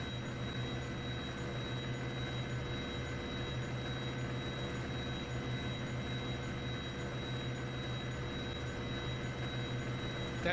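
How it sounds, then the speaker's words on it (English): A radar warning in the IL-2 1946 flight sim video game rings as a faint, steady high tone over the constant low drone of aircraft engines, with no voices. "That ringing sound you hear is a radar device."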